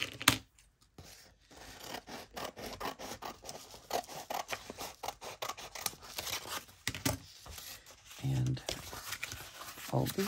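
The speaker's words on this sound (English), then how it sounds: "today I'm just using the little green scissors." Small green scissors snipping fabric and paper while making fabric-hinged journaling cards, with irregular crisp cuts and rustling close by, under a person talking.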